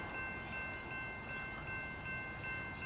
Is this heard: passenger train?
yes